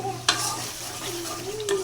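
Paya (trotters) go into a pan of hot, well-fried spice masala, with a sharp clatter followed by steady oily sizzling and stirring scrapes, close and continuous.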